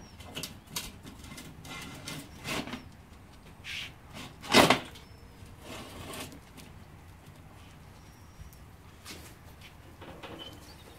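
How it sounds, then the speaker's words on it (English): Cast iron grill grate being set onto a STOK grill, a single sharp metallic clank standing out mid-way among scattered softer knocks and handling noises outdoors. "Put the grate on."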